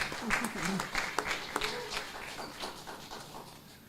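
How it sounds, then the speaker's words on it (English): An audience at an international Garifuna conference claps, with scattered, uneven hand claps and cheering voices mixed in, fading toward the end. "Give her a round of applause."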